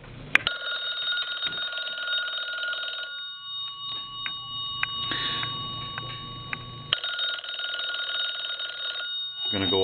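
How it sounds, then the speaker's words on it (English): A Western Electric rotary telephone bell rings in sustained bursts, loud at first, then dropping to a softer, lower rattle before ringing loudly again. "We're going to ring the bell."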